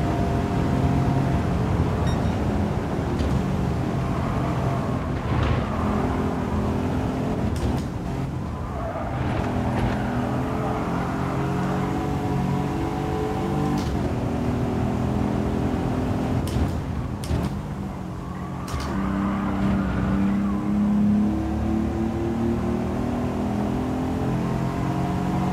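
An Aston Martin race car in GT7 revs hard around the Goodwood circuit, its engine note climbing and dropping through gear changes in a loud, continuous drone.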